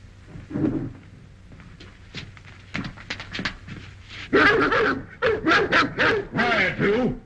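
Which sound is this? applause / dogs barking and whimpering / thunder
dogs barking and whimpering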